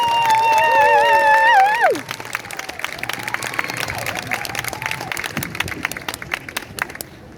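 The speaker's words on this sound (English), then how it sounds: "let's give a wonderful, warm round of applause for the San Francisco Kendo Dojo" Warm round of applause from a festival crowd for the San Francisco Kendo Dojo at a cherry blossom festival kendo demonstration, a steady wash of clapping and murmur that carries on after a loud tonal burst at the start fades out.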